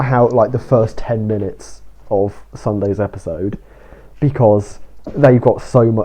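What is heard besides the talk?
None of the usual background noises is heard.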